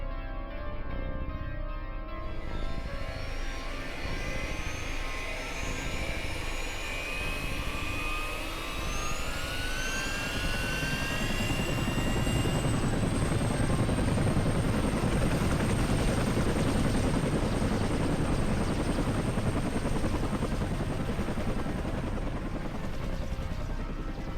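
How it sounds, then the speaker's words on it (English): A helicopter in the horror game Flesh Made Fear spins up from a low idle, its rotor thump and turbine whine climbing steadily to a loud, continuous roar as it lifts off and flies, with no voices. "Fire up the chopper"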